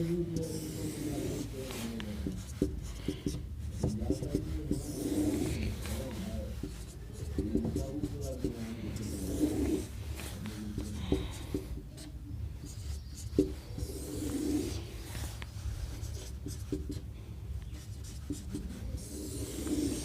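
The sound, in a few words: writing by hand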